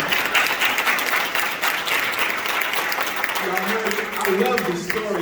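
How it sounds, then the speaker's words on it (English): An audience at a book signing for a blind educator and pastor gives a sustained round of applause, thick continuous clapping with voices rising beneath it toward the end. "Give him a round of applause"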